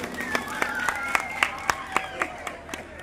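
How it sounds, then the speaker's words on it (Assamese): An audience at a higher secondary school function in Assam claps together in a steady, regular rhythm, with loud, evenly spaced claps over a voice. "ৰাইজে এটা হাত চাপৰি দিয়ক"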